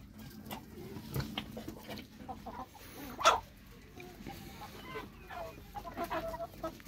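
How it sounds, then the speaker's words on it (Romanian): New Hampshire rooster and chickens on a farm cluck in repeated short bursts, with one louder squawk midway, over steady barnyard background noise. "New Hampshire, cocoș, cocoș,"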